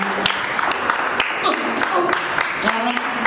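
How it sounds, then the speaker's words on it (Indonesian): A church congregation claps in response to the pastor, a scattered round of sharp hand claps over a few seconds while a voice carries on alongside. "Kita beri tepukanlah."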